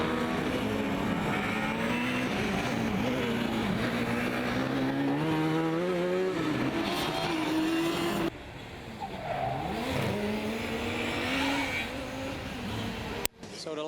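A Formula Student race car from the Ingolstadt team laps the endurance track at FSG 2016. Its high-revving engine whines steadily and shifts pitch as it passes close by, with a commentator speaking over it.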